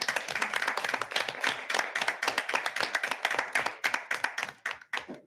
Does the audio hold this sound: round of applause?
yes